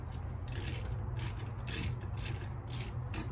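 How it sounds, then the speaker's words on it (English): Hose clamps on fuel hose tubing being loosened with a ratcheting tool, giving a quick series of close, crisp clicking bursts at a steady rhythm and moderate loudness, with no voice. "We're going to loosen both sides here on this little piece of fuel hose tubing."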